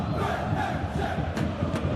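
A stadium crowd in the eFootball 2021 football game, Bayern Munich vs PSG in the Champions League, roaring and cheering in a continuous, full, fairly loud wave with no voices standing out.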